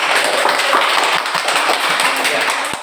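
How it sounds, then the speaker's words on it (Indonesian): Dense applause from a classroom of students clapping for a presenting group, a loud, fast continuous patter of many hands close by, with no talking over it. "Kita berikan tepuk tangan dulu untuk kelompok 2"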